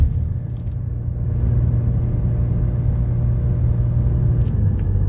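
A 2007 Saturn Aura XR climbing a big hill, its engine a steady low rumble with road noise, heard from inside the car, continuous and fairly loud with no talking.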